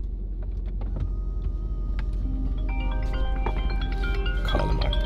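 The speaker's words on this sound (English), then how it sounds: "I'm about to drive my car" Inside a car on the move, a low steady engine and road rumble sits under scattered clicks and tinny electronic tones, with no talking over it.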